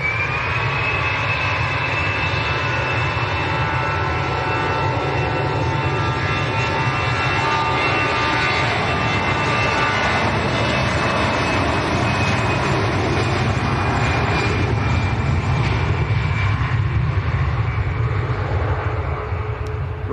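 EasyJet airliner departing Manchester Airport for Alicante, a loud, continuous jet engine roar with a sustained high whine slowly falling in pitch, close and alone with no talk.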